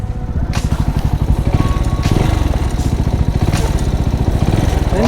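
A Bajaj Pulsar NS160 motorcycle engine idles loudly and steadily up close, with a rapid mechanical valve ticking clatter running through the running note.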